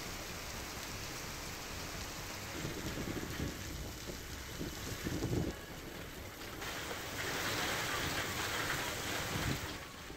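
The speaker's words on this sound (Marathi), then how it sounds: "आज सकाळपासून पुन्हा पावसाला सुरुवात झाली आहे" Heavy monsoon rain pours down in Maharashtra as a steady, dense hiss, with low rumbling swells rising and falling underneath.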